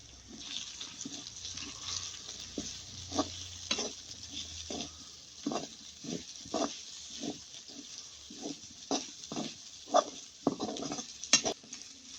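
Onions soften in a pan for veg macaroni, giving a quiet low sizzle broken by irregular stirring scrapes and clacks of a spoon against the pan, no talking.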